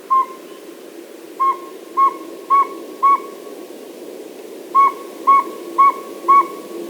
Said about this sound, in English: here's what the song of the Northern Saw-Whet Owl sounds like